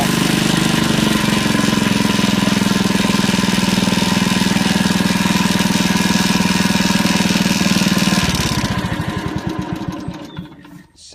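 A Honda HRD535 lawnmower with a gearbox drive problem runs loudly and steadily up close, then cuts out and sputters down to silence near the end.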